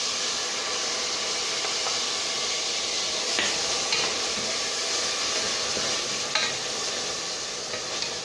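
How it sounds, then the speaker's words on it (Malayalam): Tomatoes are tipped into ginger and garlic frying in a pan for majboos and stirred, giving a steady, loud hiss of sizzling oil with faint scrapes and clicks from the spoon, and no voices. "അതിലേക്ക് നമുക്ക് തക്കാളി ചേർത്ത് കൊടുക്കാം."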